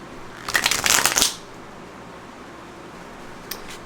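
A tarot deck is riffled once in a quick, crisp burst of card flutter lasting under a second, close to the listener. A faint brief flick of cards follows after a quiet pause.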